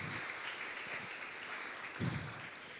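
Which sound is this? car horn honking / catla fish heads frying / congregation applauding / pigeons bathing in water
congregation applauding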